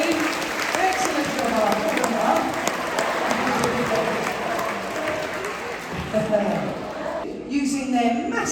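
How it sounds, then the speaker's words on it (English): An audience at a sea lion show at Knowsley Safari Park gives a sustained round of applause, a broad crowd clapping that carries on while a presenter keeps talking over it through a microphone. "give them both a big round of applause"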